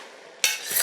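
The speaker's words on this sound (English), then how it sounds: "We give it a good stir." Spoon stirring a pot of eggplant and zucchini risotto with canned tomatoes, a short scraping, sloshing burst after a quiet moment, close and moderately loud.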